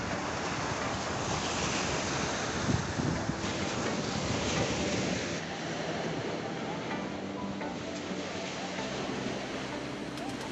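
Strong waves on Lake Balkhash roll and churn in a continuous broadband wash. Wind buffets the microphone, and the roar swells slightly midway before settling back to an even, loud surge with no voices.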